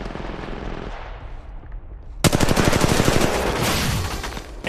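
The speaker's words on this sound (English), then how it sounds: "Hey, I'm getting shot!" Rapid automatic gunfire hitting the player in Apex mobile bursts in loudly halfway through, a dense rattling stream of shots following quieter game ambience.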